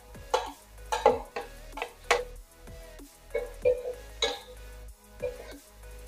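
Onion, ginger and garlic stirred in a pan: about ten distinct scraping, clinking strokes of a spoon against metal in an uneven rhythm, close and moderately loud over a low background hum.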